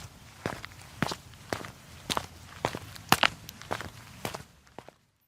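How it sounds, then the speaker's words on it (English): Footsteps fall on pavement in an urban setting, about a dozen sharp, evenly paced heel strikes close by, walking steadily over faint ambient background before stopping. "just the sounds of his feet on the pavement"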